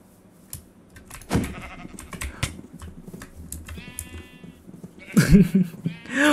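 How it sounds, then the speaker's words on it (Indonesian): Goats in the Minecraft video game bleat and give chase, with short bleats among scattered clicks and keyboard tapping, the game sounds rising into louder bursts near the end. "Gila, kambingnya mengejar kita, guys."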